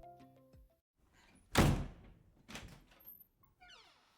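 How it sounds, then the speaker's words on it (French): A loud door slams shut with a heavy thud, followed by a quieter second knock and faint rattling; no one speaks. "une porte qui claque"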